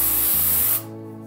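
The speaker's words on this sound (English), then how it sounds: "it's atmosphere in a can or atmosphere aerosol" An atmosphere haze aerosol can gives a steady, loud hiss of spray for most of a second, then cuts off abruptly, leaving a quieter low hum behind.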